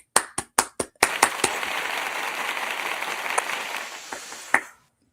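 A few separate loud hand claps ring out first, then a crowd of audience members joins in with a burst of clapping that carries on for several seconds before a final clap and silence.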